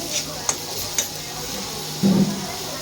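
Onions frying in a pan for fish fry and gravy while a spatula stirs them. Sharp clinks ring out at intervals over a steady sizzle, then a louder scraping stir comes near the end.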